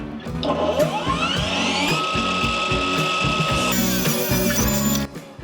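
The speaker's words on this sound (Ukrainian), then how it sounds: "давайте тепер перевіримо пилку на точність, наскільки вона точно ріже" A ProCraft PGS 20 cordless miter saw whines up to speed and cuts steadily for several seconds, then the motor cuts off abruptly.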